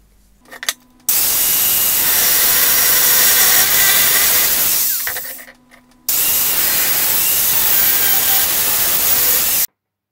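Metal tabs for a hydraulic handbrake's slave cylinder mount are cut with a loud power tool in two long, steady, close bursts that each stop sharply, with brief clanks and quiet shop noise between them.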